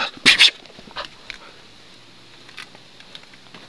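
A dog gives a couple of quick, high whimpering yips close by, followed by faint scattered sounds and quiet background noise.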